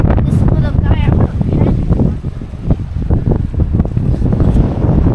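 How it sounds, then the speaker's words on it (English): Strong wind of about 20 mph buffets a microphone outdoors in the White Mountains, a steady loud roar with gusts throughout, while people talk over it. "it is about 20-mile-an-hour winds maybe out here"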